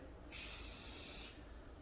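A single hissing burst of paint from a spray gun, painting a rifle, lasting about a second, close and loud, over a quiet background.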